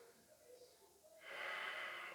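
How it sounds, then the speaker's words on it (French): Slow, controlled breathing during an Ashtanga yoga session: soft airy breaths near the microphone, with a quieter stretch followed by a stronger, steady exhale-like rush lasting about a second. "La respiration est lente et contrôlée."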